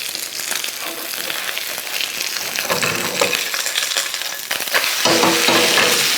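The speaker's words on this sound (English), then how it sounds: "now time to flip it over." A crispy seafood scallion pancake is flipped in a large frying pan, and a loud close sizzle swells at the turn, with scraping and frying that keep going without talk.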